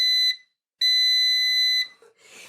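A Cosori smart Wi-Fi air fryer gives a short high electronic beep, then a longer sustained tone after a pause, loud and close, followed by a faint bit of handling noise.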